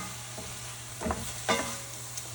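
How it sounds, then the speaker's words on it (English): Chicken enchilada filling is sautéed in a pan: a faint, low sizzle under three quick spatula scrapes that come a fraction of a second apart, with no one speaking. "You're just going to saute that together"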